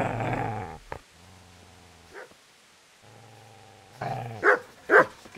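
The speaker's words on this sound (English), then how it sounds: "Get away, you mutt!" Low, rumbling dog growls in the medieval video game Kingdom Come Deliverance, coming in several sustained bursts separated by pauses, followed by sharper, louder snarling barks close up.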